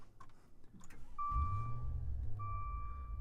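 Maserati Levante Trofeo, a 590 hp 2020 performance SUV, starts with a short crank and a loud, deep engine catch, then settles into a steady rumbling idle under a chiming cabin tone, heard from inside.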